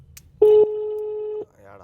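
A mobile phone call rings out, a loud steady ringback tone lasting about a second, with quiet background sound before and after.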